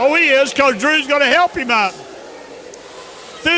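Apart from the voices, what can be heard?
No distinct noise like a dog, phone or traffic.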